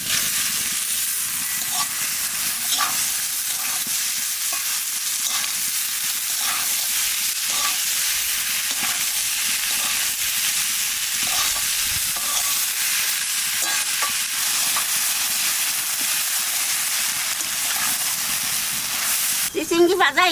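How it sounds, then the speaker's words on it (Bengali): Snake gourd fries with beaten egg in a pan, giving a constant close sizzle and hiss for about twenty seconds with occasional stirring scrapes and no talking. "চিচিঙ্গি ভাজা হয়ে গেছে, আনে পোস্ত আর ধনিয়ার পাতা দিয়ে নামাই দেবো।"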